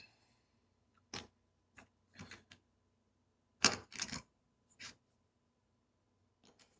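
Poker chips shuffled by hand click and clatter in short separate bursts with quiet gaps between, close and crisp, no speech.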